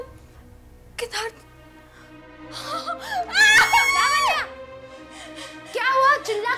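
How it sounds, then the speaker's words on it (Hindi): A woman in a Hindi horror drama screams and wails in long, rising, strained cries, loud and close, with short bursts of voice before and after. "क्या हुआ? चिल्ला क्यों रही हो?"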